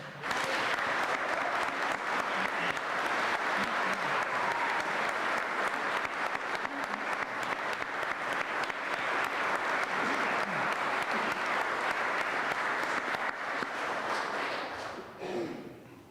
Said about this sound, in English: I'd like to invite everyone to give a special round of applause to all our graduates here and online